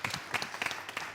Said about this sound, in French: On va vous demander de vous applaudir